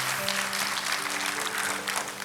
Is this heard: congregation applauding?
yes